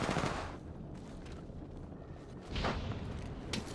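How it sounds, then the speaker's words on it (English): Smart bullet gunfire in the video game Apex Legends: bursts of rapid shots, loudest at the start and again near the end, with a busier patch of game sound between them. "Firing a smart bullet."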